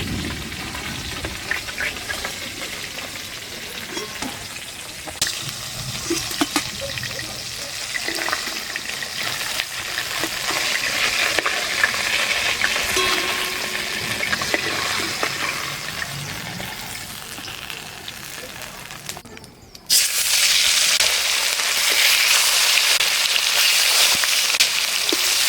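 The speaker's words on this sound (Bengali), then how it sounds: "বাকি মাছগুলো ভাজা হয়ে গেছে, এবার তুলে নেবো।" Mrigal fish pieces fry in hot oil in a kadai, giving a continuous close sizzle that wavers for a while and then jumps to a louder, brighter hiss for the final stretch.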